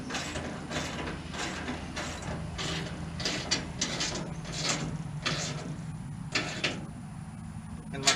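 Steel wrench and socket tightening a 9/16 bolt while mounting a Buyers LT35 hand tool rack, a steady run of metallic ratcheting clicks and scrapes in a fairly close, continuous rhythm with no talking.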